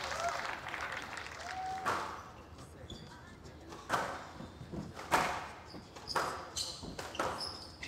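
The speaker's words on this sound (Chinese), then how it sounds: "让我们为两位运动员精彩的表现鼓掌" Spectators at a men's squash semi-final of the China Open applaud in a soft, distant patter, punctuated by a few sharp thumps and a faint whistle-like tone.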